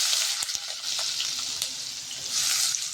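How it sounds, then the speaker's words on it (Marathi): Chopped onion hits hot oil already crackling with mustard seeds and cumin, giving a steady bright sizzle with scattered pops and spatters, close and continuous with no talking. "तर लगेच थोडं कांदा घालून घेते."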